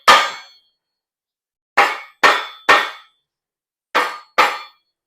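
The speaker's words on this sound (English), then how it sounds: "What I'm going to do, I'm going to take mallet," Mallet tapping a main bearing cap on a big block Chevy engine during a build: six sharp metallic clangs, one alone, then a quick group of three, a pause and a final pair, each ringing briefly.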